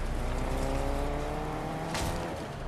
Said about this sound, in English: Momo, just drive away.